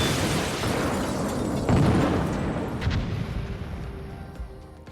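Bombs from a stream of US bombers exploding on a factory during a wartime air raid, heard as a dense continuous rumble of blasts with a few sharper bursts standing out, loud and sustained before thinning toward the end.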